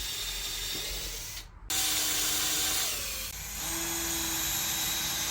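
A power drill drilling into concrete whines steadily at close range, cutting out briefly for a moment before spinning up again.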